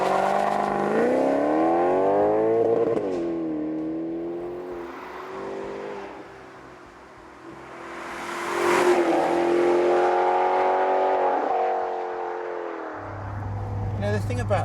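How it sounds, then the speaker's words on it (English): A Maserati GranCabrio Sport's 444-horsepower V8 revs loudly, its tone climbing and falling through several sweeping surges, then settling into a deep, steady idle-like drone at the end. "The thing about this new Maserati is that it may be unbelievably loud and amazingly leery sounding"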